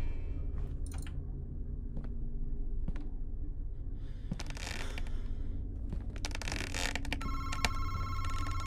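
A telephone rings in the horror video game Madison, a bright electronic trill rising near the end over a low, rumbling ambient drone and scattered sharp knocks and crackles.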